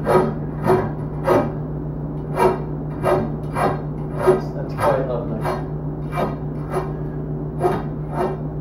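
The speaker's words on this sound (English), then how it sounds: "You want to deburr that with the file a little bit? Just knock off the edge." A file rasps against a metal edge to deburr it in steady, evenly spaced strokes, close and distinct, with a voice speaking briefly over a low constant hum.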